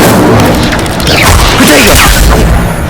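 A roaring, crackling fire spell blast in Hogwarts Legacy fills the whole moment at full loudness, a sustained rumbling burst layered with sweeping whooshing effects and faint vocal sounds.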